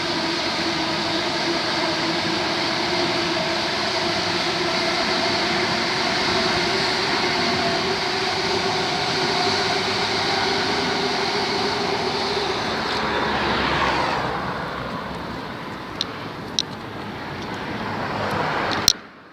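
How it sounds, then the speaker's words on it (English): A loud train rumbles past at close range through East Croydon station for a long stretch, then fades away, followed by a few sharp clanks near the end. "Film this train coming through."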